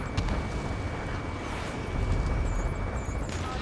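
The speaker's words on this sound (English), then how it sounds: "Gunfire and the roar of jets echoing through the streets." Dense, rumbling gunfire and heavy blasts roll on continuously through city streets in Ace Combat 7: Skies Unknown, with a sustained roar of jets passing overhead, loud throughout with no voices.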